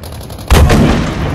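A single loud, close gunshot crack from Battlefield V combat, bursting abruptly out of quiet ambience and leaving a rumbling tail that decays slowly.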